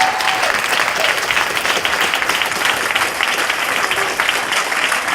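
A student body president debate audience applauds the three candidates. Sustained dense clapping from a sizable crowd runs loud and even for several seconds, with a brief voice at the very start.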